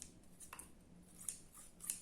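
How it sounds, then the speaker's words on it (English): Several quick, crisp snips of scissors, faint and close, spaced irregularly with brief pauses between cuts. "Scissors."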